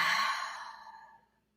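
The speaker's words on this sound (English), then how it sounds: "Complete breath out." A deep exhale during a yoga session, one long breathy sigh that starts loud and close and fades to silence after about a second, alone with no talk.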